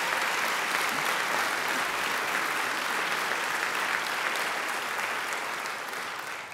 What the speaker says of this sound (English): I'm sure you'd like to give them a round of applause too